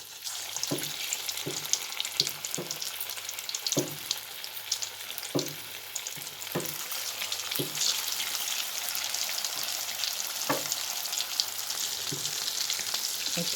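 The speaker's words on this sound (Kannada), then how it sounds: "ಓಕೆ, ಈಗ ಕರ್ಕೊಳ್ಳೋಣ." A paneer aloo samosa roll fries in hot oil over medium flame, giving a steady close sizzle with bright bubbling and periodic soft pops, no voices.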